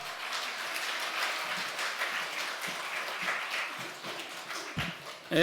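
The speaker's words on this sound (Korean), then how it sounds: "다시 한번 박수 부탁드립니다" Church congregation applauding after a pastor's lecture for a summer Bible school, continuous scattered clapping at moderate level, ending with a louder burst.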